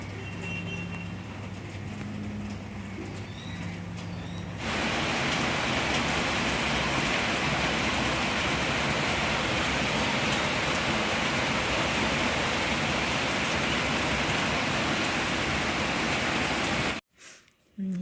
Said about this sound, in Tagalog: Tingnan niyo, umulan.